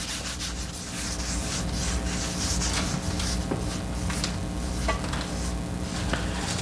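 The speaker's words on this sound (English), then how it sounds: "spread that around the pan." A folded paper towel is rubbed around a hot pan to spread cooking oil, giving a steady close scratchy rubbing sound with faint sizzle, continuous and fairly loud throughout.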